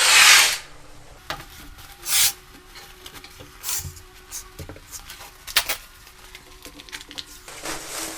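Rustling and crinkling as 72-inch hand masker plastic with 1.5-inch tape is pulled out over a bathroom vanity, with soft scraping rubs, scattered sharp crackles and quiet pauses between bursts.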